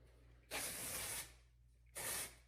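Dry shampoo sprayed from an aerosol can onto hair in two bursts, a long hiss of about three-quarters of a second followed after a pause by a shorter one, close and fairly loud.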